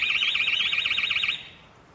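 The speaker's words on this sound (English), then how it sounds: "The alarm system goes off straight away." A home intruder alarm system going off, a loud, close, rapidly warbling electronic siren sounding alone for over a second before cutting off abruptly into quiet.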